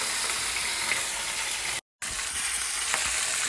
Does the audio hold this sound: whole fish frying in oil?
yes